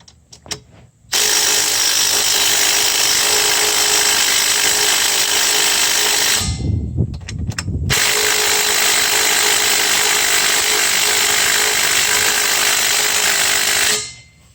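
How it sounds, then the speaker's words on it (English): Compact DeWalt impact wrench hammering on the wheel nuts of a Honda Rancher 420 ATV, two long loud rattling bursts with a short pause between, close and alone. "We got the little small impact from DeWalt. Let's see if it breaks loose the nuts."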